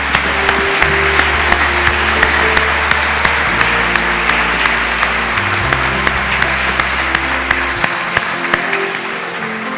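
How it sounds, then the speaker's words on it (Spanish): Steady, dense applause from a congregation at a church service fills the whole stretch, many hands clapping at an even level with a low sustained tone beneath, and no talk on top. "demos un aplauso a ellas también"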